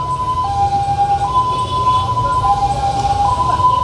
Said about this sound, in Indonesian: Oh, ada ambulans lewat.